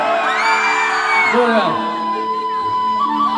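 A crowd at a Rongali Bihu gathering whoops, yells and cheers loudly and continuously, with raised voices overlapping throughout.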